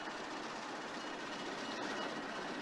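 Conway Scenic diesel locomotive 1055 runs around its train at North Conway Railroad Station, giving a steady, broad rumble of engine and rolling rail noise that fills the whole stretch at an even level, with no voices.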